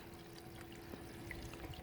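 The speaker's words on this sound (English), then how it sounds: "The water is dripping down there all over the place." A leaking homemade swamp cooler spills water all over, producing a continuous soft trickling and pouring sound over a faint steady hum from the running unit.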